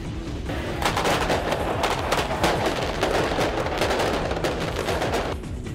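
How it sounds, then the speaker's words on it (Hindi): Protesters outside a president's office set off firecrackers at night, a loud, dense, unbroken crackle of rapid pops and bangs lasting several seconds. "इस बार उन्होंने सर्हिय के जन्मदिन की खुशी में जमकर पटाखे जरूर फोड़े"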